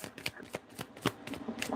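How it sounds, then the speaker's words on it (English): A deck of tarot cards is shuffled by hand close to the microphone, a quick run of crisp riffling snaps and soft slaps in an irregular rhythm, fairly quiet with no talking. "Let me get through this shuffle and I'll grab that card."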